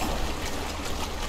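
Waterfall water in the video game Conan Exiles rushes in a constant soft hiss of flowing water, steady and fairly quiet, with no voices.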